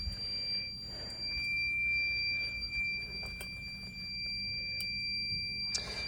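A fire alarm panel sounds a steady high electronic tone, continuous and fairly close over a low hum, with faint clicks and no talking.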